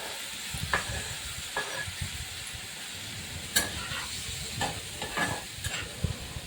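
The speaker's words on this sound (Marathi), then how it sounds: "तर असा कांदा टॉमॅटो परतून घेते आहे" Onion and tomato sautéing in oil with asafoetida, a soft steady sizzle punctuated by repeated, fairly close spatula scrapes in an uneven rhythm.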